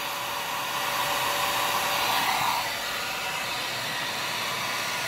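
A heat gun blows a steady, loud hiss of hot air onto a Ruger 10/22 Kid barrel, a continuous airy roar that swells slightly midway and holds near and even throughout, with no talking.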